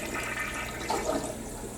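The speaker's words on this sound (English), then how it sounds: "I'm going to flush the toilet one more time and see if it drains" A toilet flushes in one steady rush of water that swells near the middle and holds to the end, close and fairly quiet, with no voices. The bowl is partly clogged and has just been cleaned with bowl cleaner.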